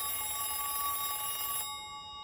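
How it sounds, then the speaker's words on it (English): A telephone rings in a TV episode, a bright electronic trill with a steady tone that sounds for about a second and a half, then cuts off abruptly into quiet. "The kids storm off and the phone rings again."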